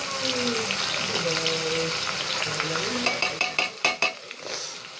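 Onions frying in well-heated oil for mutton or chicken nihari, a dense steady sizzle and crackle up close, with faint talking underneath and a few stirring knocks toward the end.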